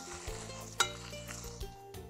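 Popcorn is stirred with seasoned butter and Parmesan cheese, making soft, faint rustling and scraping with a single light clink from a utensil or bowl, close and quiet.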